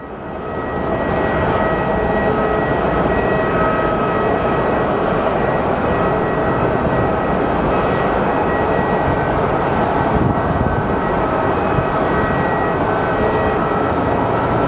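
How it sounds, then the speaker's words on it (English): A Horizon Air airliner arriving at Phoenix Sky Harbor airport gives off a continuous broad jet roar, loud and steady throughout with no talk over it. "So up next is our Horizon Air coming in from Portland."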